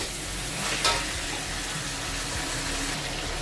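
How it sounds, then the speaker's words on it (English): Egg chicken fried rice fries on high flame, giving a steady, even sizzling hiss with a brief clink of utensils early on and no talking. "Let it fry for a while."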